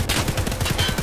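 Rapid automatic gunfire in the shooter game Escape from Tarkov: a loud, close burst of about nine evenly spaced shots within a second, with no voices over it.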